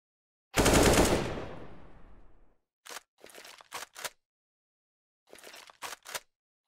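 Gunfire in a Counter-Strike match between Nemiga and Gambit at MDL Season 27: one long loud burst of automatic fire that trails off, then a series of short sharp shots in two clusters, with no talk over them.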